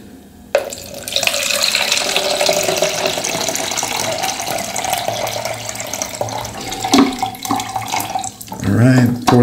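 A tap runs water into a black-and-white film developing tank for the wash stage, a loud steady gush that lasts several seconds and then changes pitch as the tank fills near the end.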